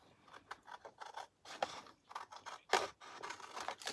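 Scissors cut through a paper journaling card in a quick series of crisp, close snips and scrapes, quiet and with no other sound.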